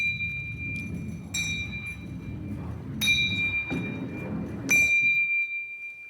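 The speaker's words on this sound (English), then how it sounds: "So we should hear the bells ringing at equal intervals in time." Small bells struck one after another by a rolling ball, four bright metallic dings at roughly even spacing, each ringing on with a sustained tone over a low rumble of the rolling ball.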